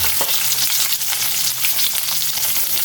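Onion added to golden garlic frying in a pan for squid adobo, a steady loud sizzle with faint stirring, no talking.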